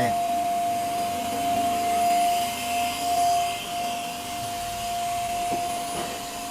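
A vacuum cleaner sucking dust from the interior of a used car, a steady loud droning whine with a faint tonal hum and shifting suction, close by and continuous throughout.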